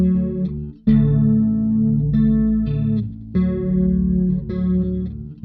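Bass guitar through an MXR M83 Bass Chorus Deluxe pedal at medium rate, several sustained notes and chords with a wavering, shimmering chorus swirl, close and clean, with no speech.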